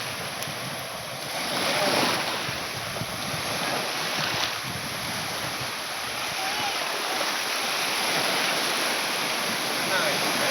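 Ocean waves wash onto a beach in a steady, broad surf roar with wind buffeting the microphone, swelling slightly early on and continuing without pause.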